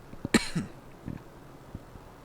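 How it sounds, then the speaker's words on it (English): One sharp, loud cough, followed by a few softer throaty coughs and rasps, with no talking. "Sorry about this cough."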